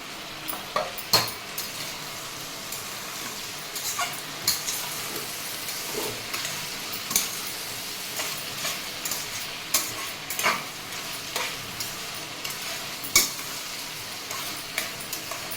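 Thinly chopped tomato fries and sizzles in a pan for an Andhra beerakaya pappu, with a spoon stirring and scraping in repeated clinks against the metal over a soft steady hiss.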